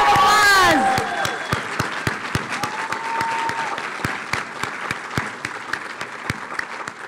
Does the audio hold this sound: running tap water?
no